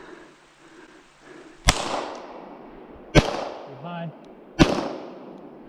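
Three sharp, loud gunshots ring out at a practical shooting match with steel targets, spaced about a second and a half apart, each with a short echoing tail; a voice speaks briefly between shots.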